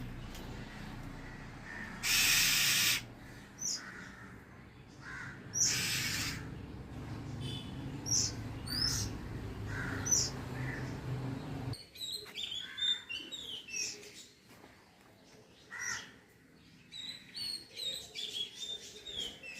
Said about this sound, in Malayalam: ഇവിടെ ഇവിടെ ഇരുന്നോ വിളിക്കുന്നു കേട്ടോ തള്ളക്കിളി